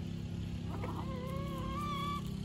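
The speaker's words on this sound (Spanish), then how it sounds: "Entonces sí, es la gallina de mi hijo" A hen in a henhouse gives a short, rising, drawn-out call that sits faintly over a steady low hum, heard from a moderate distance.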